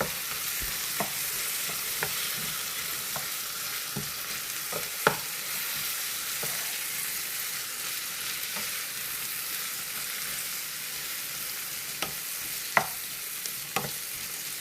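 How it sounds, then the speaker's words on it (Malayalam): Vegetables fry in a pan for a Kerala-style mezhukkupuratti as turmeric and chilli powder are stirred in, a continuous hiss of sizzling oil broken by occasional scraping spoon knocks, close and steady with no talk. "1 സ്പൂണ് മഞ്ഞൾപ്പൊടി, 1 സ്പൂണ് മുളകും പൊടി ചേർത്ത് നന്നായി ഇളക്കി കൊടുക്കുകയാണ്."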